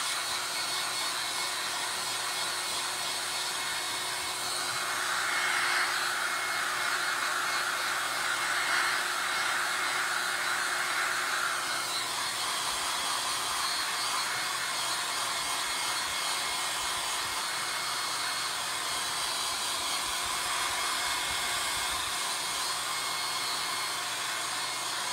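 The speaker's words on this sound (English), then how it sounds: "I just have to put the hairdryer on a little bit right now." A handheld hair dryer blows steadily to dry a craft piece for a chicken-themed corner market, a continuous close whooshing roar that runs for the whole stretch with a slightly louder middle section and no talking.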